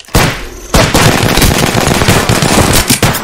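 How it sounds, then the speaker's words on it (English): Rapid automatic gunfire in the Apex Legends video game, loud and close, with dense repeated shots after a short opening burst and a break. "Getting shot at."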